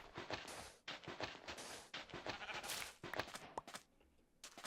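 Several Minecraft sheep bleat one after another in short, bright, quavering bursts, close and loud, with faint soft steps in the gaps and no voices.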